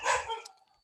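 A dog gives one short, sharp bark that fades quickly, heard alone with no talking.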